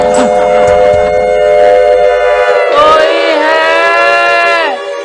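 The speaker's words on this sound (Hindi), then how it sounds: "ये स्टीमर की आवाज है। स्टीमर आया है।" A loud, sustained steamer ship horn blares, holding its tone, then briefly rises in pitch before cutting off, with a steady roar of heavy rain in the background.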